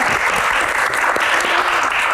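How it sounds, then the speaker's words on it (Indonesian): Audience applause for a guest, Iqbal Alexander, at an Indonesian Q&A event: dense, steady clapping from a crowd, loud and continuous without a break for its full two seconds. "tepuk tangan Mas Iqbal."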